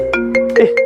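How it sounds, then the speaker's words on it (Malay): A phone ringtone plays loud and close, a quick melodic sequence of bright electronic tones in short repeating pulses. "Ada telefon."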